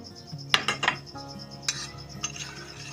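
A spoon clinks against a bowl while soy sauce, vinegar and spices are mixed for a shawarma marinade, a few quick metallic taps and scrapes up close.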